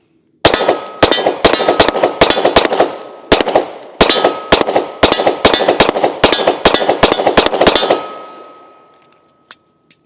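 Gunshots from a handgun fitted with an OSight red dot sight: around twenty sharp, loud reports with a metallic ring, fired in quick strings separated by short pauses, then a single late shot, with no speech.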